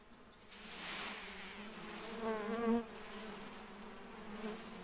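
Honey bees buzz around hives on a hot summer day, a dense, continuous drone close by with a few individual bees whining louder as they pass near.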